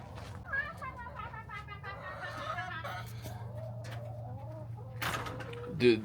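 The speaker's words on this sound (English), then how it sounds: "I hear the chickens clucking already" Chickens cluck and chortle nearby in short rising bursts over a low steady hum, with a louder squawk near the end.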